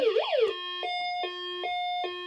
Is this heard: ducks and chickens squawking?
no